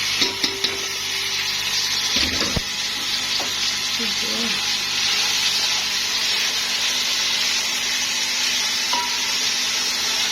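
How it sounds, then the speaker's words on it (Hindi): Carrots, peas and capsicum frying in a pan for vegetable fried rice, a loud continuous hiss of sizzling oil with a few clinks and stirring knocks near the start. "इनको अच्छी तरह ब्राउन करेंगे, थोड़ा सा लाइट ब्राउन।"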